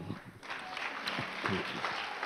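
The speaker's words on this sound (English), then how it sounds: "Please, let's clap for him." Congregation applauding during a church service, a steady wash of clapping at moderate loudness with a few louder bursts, continuing without voices.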